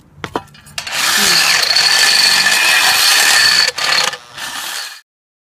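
A power drill bores into a metal bracket on a ham radio tilting crank-up tower, a loud close whine that holds for about three seconds, dips briefly, then resumes and cuts off.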